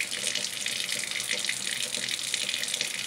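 A kitchen water tap runs steadily, with a continuous close hiss of flowing water and no pauses.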